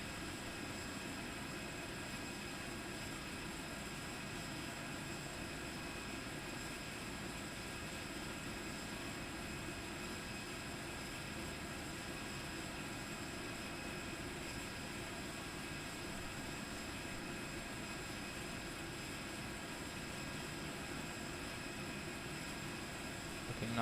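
Steady, unbroken engine roar and cabin hum from a TAP Air Portugal FSLabs A319 airliner landing in the Prepar3D flight simulator, a constant drone with fixed tonal whines and no talk.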